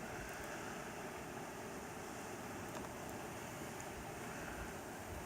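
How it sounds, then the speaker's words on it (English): Strong, continuous wind during a snowstorm blizzard outside a house window, a dense, roaring rush buffeting the microphone with no letup and no voices. "Very windy here."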